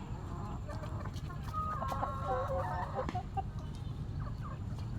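A Bonraj rooster in a village yard clucks a few soft, short calls in the middle, heard faintly over low steady background noise.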